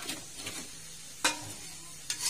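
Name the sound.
stirring fried chicken with seasoning in a pan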